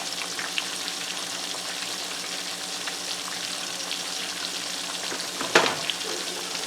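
A second batch of crunchy Jamaican fried chicken deep-fries in a pot of oil, giving a dense, even sizzle and bubbling hiss that carries on steadily with one brief louder pop near the end.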